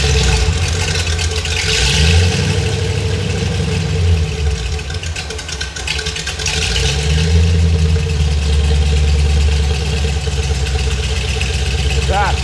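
A Ford Windsor V8 runs loud with its mufflers removed, a steady low rumbling drone that swells and eases slightly across the clip, close by, with faint talk underneath.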